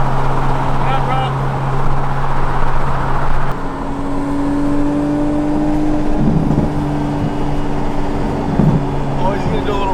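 An Audi sports car is driven nearby with a steady engine hum, then revs to a higher sustained pitch partway through. People talk loudly over it throughout.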